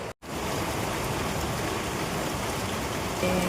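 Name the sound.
heavy rain falling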